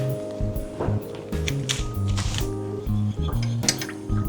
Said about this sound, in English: As you can hear in the background, I got the dishwasher going.